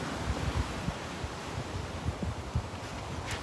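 Water laps at a small sandy lakeside cove among trees, a soft steady wash of waves under continuous wind noise buffeting the microphone, with no voices.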